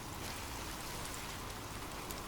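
Steady, even rainfall fills the whole stretch as a soft, continuous hiss with no breaks, no distinct drops standing out and no voices.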